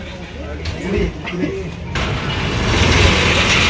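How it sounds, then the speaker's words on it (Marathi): A bus starts up and begins pulling out of the Sangameshwar bus depot in the Konkan region. A steady engine rumble swells into a louder, broader roar about halfway through, with faint murmuring in the background. "चला गाडी चालू झाली संगमेश्वर डेपोतून गाडी आता निघेल"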